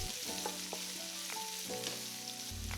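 Onions tossed into a hot pan of half-cooked carrots for japchae, sizzling steadily with scattered clinks and stirring scrapes, close and moderately loud with no talk.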